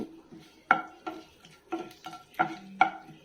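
A tempering of cumin, crushed garlic and lentils in a teaspoon of oil in a pan, with a faint sizzle under several sharp metallic spoon clinks and taps against the pan, close and quiet.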